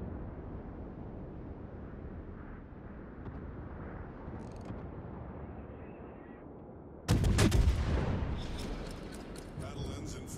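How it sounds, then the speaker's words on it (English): Naval gunfire in the World of Warships game: after a stretch of low rumbling ambience, a loud booming salvo erupts and rolls off into crackling echoes, with a voice murmuring beneath. "Bloody shooting at me just because I'm standing still."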